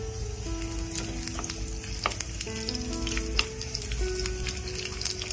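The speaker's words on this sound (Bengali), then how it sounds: "পেঁয়াজটা একটু হালকা নরম করে ভেজে নেব।" Chopped onion frying in oil in a pan for a shrimp and Malabar spinach curry, with turmeric and chili powder in the pan, making a steady, close sizzle that holds throughout.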